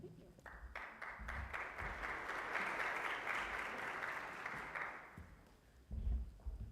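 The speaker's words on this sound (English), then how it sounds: "let's give this panel one more round of applause" An audience applauds a panel on women's health, a round of clapping that swells, holds for several seconds and fades, with a voice speaking at the start and again as it ends.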